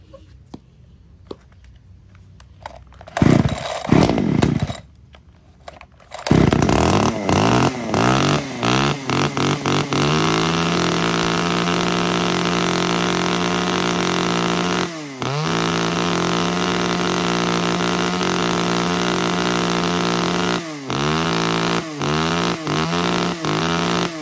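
An Echo Kioritz chainsaw made in Japan, in original condition, starts after a few pulls and then runs loud and steady at idle and mid revs, with brief dips in the engine note.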